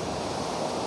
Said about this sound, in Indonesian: untuk melihat suasana ombak terkini di pantai tersebut